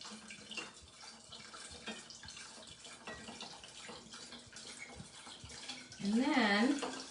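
A full bottle of wine is poured into a sangria mix, a steady splashing gurgle of liquid that swells louder near the end, with a voice talking over it.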